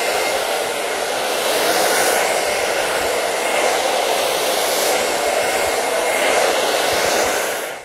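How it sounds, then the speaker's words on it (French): A hair dryer blows loud and steady at close range for several seconds while styling hair, a constant airy rush that cuts off at the end, with no talking. "Une fois que vous avez terminé avec le sèche-cheveux"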